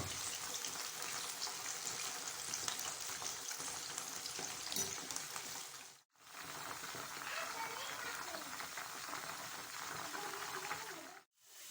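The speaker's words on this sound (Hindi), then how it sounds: "अब हम इसमें एलोवेरा ऐड करते हैं और इनको भी इसी तरह से फ्राई कर लेंगे" Onions and aloe vera fry in hot oil, giving a steady close sizzle and crackle broken by two short silences, with someone talking over it.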